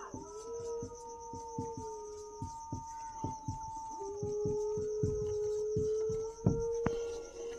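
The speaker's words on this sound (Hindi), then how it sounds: "बाहर कुत्ते भी भौंक रहे हैं" Dogs bark outside in a steady series of sharp, evenly spaced barks, with drawn-out howl-like tones running beneath them at moderate distance.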